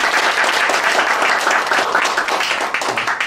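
Sustained audience applause for a lecturer at the close of an IT lecture series at Changwon court, dense and steady clapping from a full room throughout, with no talk over it.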